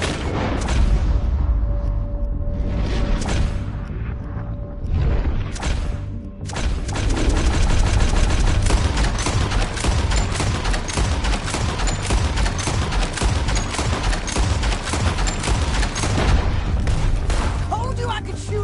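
Dense gunfire rattles through a Red Dead Redemption 2 shootout, rapid overlapping shots and heavy booms going on almost without a break, loud and close, with voices now and then under the noise.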